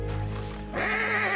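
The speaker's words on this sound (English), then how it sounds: "Oh no, my horse." A horse in the video game Red Dead Redemption 2 lets out a loud, close whinny that rises and wavers for under a second after a steady rumbling background.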